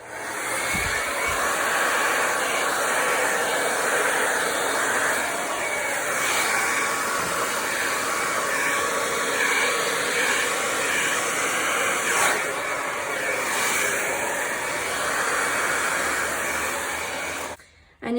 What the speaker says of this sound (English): And then the next thing that I want to do is use my blow dryer, and I'm going to blow the paint back up onto the color.